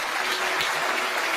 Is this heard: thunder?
no